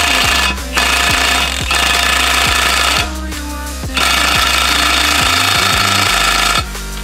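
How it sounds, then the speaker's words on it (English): An impact gun presses a ball joint into an R32 Skyline GTS-t. It makes loud, rapid hammering bursts close up, with several runs broken by short pauses. "I'm gonna try and hold it and use the impact gun at the same time to press it in"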